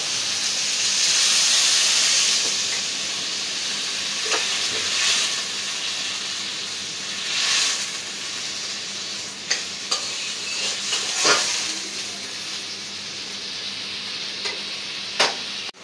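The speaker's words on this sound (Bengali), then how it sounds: "ঝোলটা ফুটে আসছে" Rohu fish curry gravy bubbles in a pot as it comes to a boil. A steady steamy hiss and soft simmering burble play close, with occasional clinks and scrapes and no talking.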